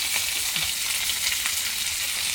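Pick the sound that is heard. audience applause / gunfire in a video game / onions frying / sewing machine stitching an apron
onions frying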